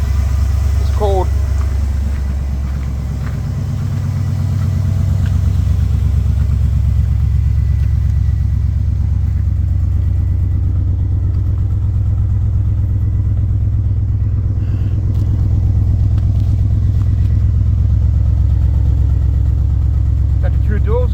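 A 2000 GMC 2500 pickup with true dual exhaust runs after an 18-degree cold start, a loud steady low engine rumble that holds throughout the clip with slight shifts in pitch.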